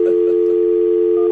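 A steady telephone dial tone hums continuously and loudly while a call is being placed, ending with a brief click.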